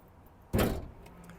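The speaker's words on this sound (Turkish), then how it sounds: "Motor kaputumuzu açıyoruz." A car's engine hood being opened during a Turkish driving exam lesson: one sharp mechanical clunk and rattle midway, then settling noise, close by with no talk.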